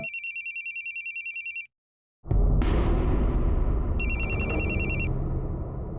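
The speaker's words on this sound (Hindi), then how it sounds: "किसका फोन था?" A telephone in a home rings in steady electronic trills that stop, then after a short silence a loud dense background rises and a further burst of ringing sounds over it.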